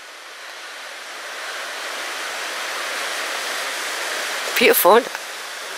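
A river rushes past Bossington Hill in Horner Woods near Porlock, a steady broadband roar of flowing water filling the whole stretch, with a brief spoken word near the end.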